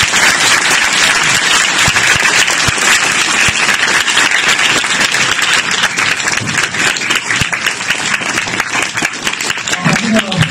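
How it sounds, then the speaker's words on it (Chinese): Sustained applause from a lecture audience fills the room, dense and steady for the whole stretch, with a faint voice rising near the end. "最后让我们再次用热烈的掌声感谢金老师"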